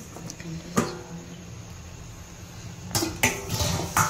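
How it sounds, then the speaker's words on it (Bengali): A lid lifted off a pot of milk caramel pudding after steaming, giving a few sharp metallic clinks and clatters, close and brief, separated by quiet stretches. "এবার ঢাকনাটা সরিয়ে দেবো আমরা।"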